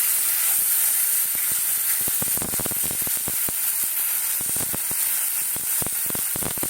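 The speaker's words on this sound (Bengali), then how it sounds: "এই মশলাটা দিয়েছি, মশলাটা দিয়ে একটু কষিয়ে নেব" Spices fry in a pan for a spiced potato curry, a constant loud hiss and sizzle topped by rapid crackles and spatters, with no voices.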